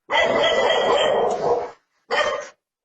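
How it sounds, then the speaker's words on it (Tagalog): Dogs bark at elephants outside a house, two close, loud barking bursts, one long and one short, separated by a brief silence. "Pati nga mga aso, walang tigil katatahol."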